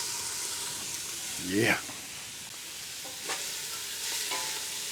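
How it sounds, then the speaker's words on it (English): Steady frying hiss of onions in a hot pan, with a brief spoken word and a couple of light clinks partway through. "Oh, listen to them sizzle."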